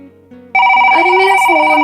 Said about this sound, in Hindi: अरे मेरा फोन।